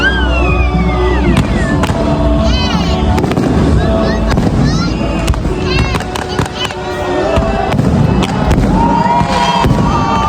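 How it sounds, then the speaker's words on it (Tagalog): Christmas Day fireworks burst and crackle repeatedly over a loud, continuous crowd murmur, with booming thuds and sharp pops spread throughout. "Maya-maya nga ay ayan na yung fireworks."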